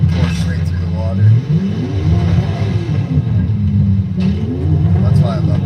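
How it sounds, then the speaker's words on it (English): Old Porsche engine rumbling and revving as the car drives through water in Forza 5, a loud low growl that rises and falls in pitch, with someone talking over it throughout. "Just bringing this old Porsche right through the water."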